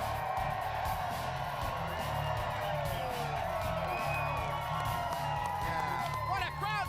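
A large NASCAR race-day crowd at Loudon, New Hampshire cheers and whoops in a steady, distant roar, with an announcer talking loudly over it the whole time.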